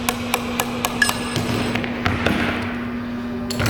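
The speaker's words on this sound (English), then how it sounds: "give it a couple of raps with the side of the plastic tipped hammer" The side of a plastic-tipped hammer raps on stainless sanitary pump parts during seal installation, producing a series of sharp, evenly spaced knocks, then a pause and two more close taps over a steady mechanical hum.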